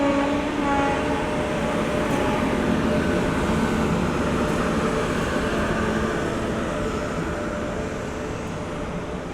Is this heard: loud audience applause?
no